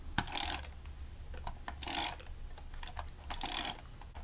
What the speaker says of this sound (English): I'll bring this tape runner back out